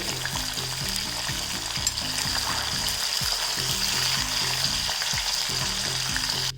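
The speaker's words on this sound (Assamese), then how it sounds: "মাছখিনি এতিয়া মই ধুনীয়াকৈ ফ্ৰাই কৰি ল'ম।" Pieces of snakehead murrel fish sizzle steadily in hot oil in a pan, a loud, continuous frying crackle with occasional stirring or turning noises, no voices.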